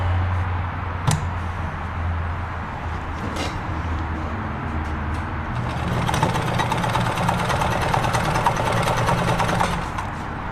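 A Kenmore 1251 sewing machine stitching, its motor humming with a rapid mechanical chatter that speeds up and grows louder after a few seconds, close and steady with no talk.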